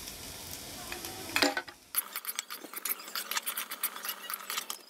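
Fried vegetables for vegetable biryani being stirred in a pot: close scraping and clattering strokes over a steady sizzle, growing busier after a brief pause, with no one talking.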